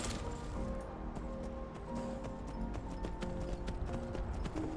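A stolen horse gallops in the video game Skyrim, its hooves beating a quick, steady clip-clop rhythm up close, with a brief whinny and a light clink of tack, all fairly quiet.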